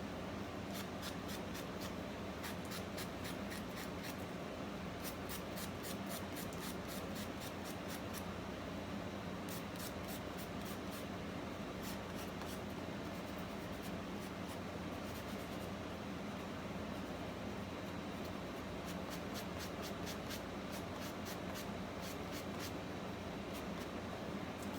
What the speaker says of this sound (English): So I'm sanding around the edges of the scrapbook paper.